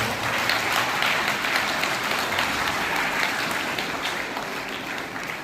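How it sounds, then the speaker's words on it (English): Sustained applause for teachers from an audience in a school auditorium during an investiture ceremony, dense steady clapping filling the whole stretch, loud and even. "Let us all give them a big round of applause to all the teachers."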